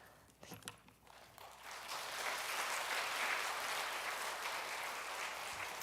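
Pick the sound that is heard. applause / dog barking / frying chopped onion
applause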